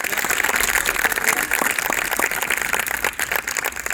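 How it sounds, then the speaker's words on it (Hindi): An audience at a school magic show gives a loud burst of applause, dense and continuous clapping from many hands that carries on for several seconds and thins slightly near the end. "प्रिया जी के लिए एक बार जोरदार तालियां।"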